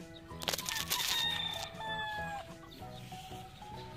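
Young gamecock roosters (stags), newly tethered, cluck and crow close by, with one clear crow rising over scattered clucks and calls.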